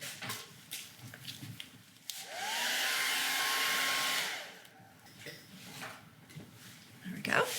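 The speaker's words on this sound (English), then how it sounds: "Let me give that a blow dry." A hair dryer blows steadily for about two seconds to dry a fresh coat of paint on a stenciled faux wood plank background, a close whooshing hum rising and cutting off, with someone talking before and after.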